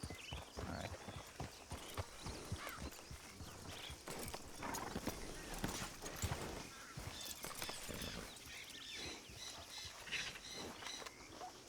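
Hooves clatter in a busy, irregular rhythm as a horse moves in a video game, with a few faint whinnies among the clip-clop over steady ambient background, fairly quiet overall.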